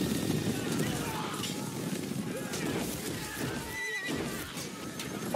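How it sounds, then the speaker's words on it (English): Horses whinny and neigh amid the hoofbeats of a charging cavalry during a Game of Thrones battle scene, a dense, continuous roar of galloping and shouting in the background. "Oh, the horses!"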